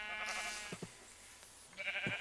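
Sheep in the video game Minecraft bleat twice, clear wavering calls with short pauses between them over faint game ambience.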